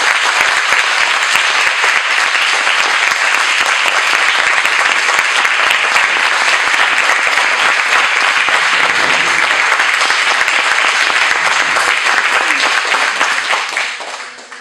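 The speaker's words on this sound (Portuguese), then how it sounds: "Um aplauso para Nossa Senhora." Loud, sustained applause from a church audience honoring Our Lady, a thick wall of clapping from a large crowd that holds steady for a long stretch before tapering off at the end.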